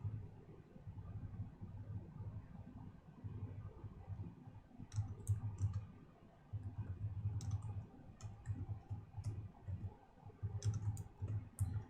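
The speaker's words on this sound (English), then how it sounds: "I'm typing it right now." Soft, scattered clicks of typing on a computer keyboard in short bursts, faint over a low steady rumble.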